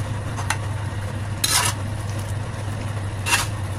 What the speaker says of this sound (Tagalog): Then, lagyan na natin yung lechong kawali.